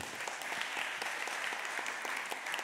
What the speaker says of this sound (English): I planned this reveal. I was like, maybe they'll applaud.